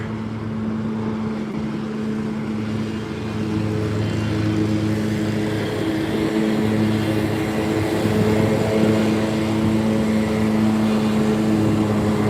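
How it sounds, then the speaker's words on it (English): Steady engine drone of a lawnmower running continuously in downtown Detroit, fairly close, with a constant low hum and slight rises in intensity. "Sorry about the lawnmower, guys."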